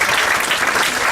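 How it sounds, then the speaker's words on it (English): Wedding guests applauding during the speeches, a loud, dense burst of clapping that fills the short moment without a break. "Let's have a round of applause for them."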